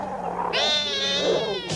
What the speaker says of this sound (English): And because you did such a good job on Ruff, I brought you my cat to train.